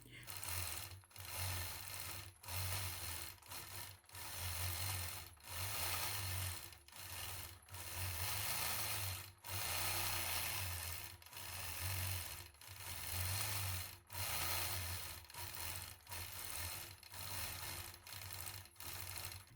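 A sewing machine stitches free-motion quilted feathers, running in steady rapid bursts with brief pauses between them, close and fairly loud throughout.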